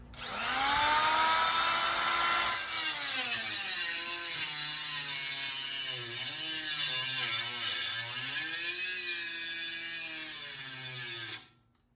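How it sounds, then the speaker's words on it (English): Electric cutoff tool slicing through angle iron for a weed-eater-powered bicycle build, a loud continuous high whine with shifting pitch as the blade bites and eases, running steadily for about eleven seconds before stopping abruptly. "I'm going to use my cutoff tool just to cut this"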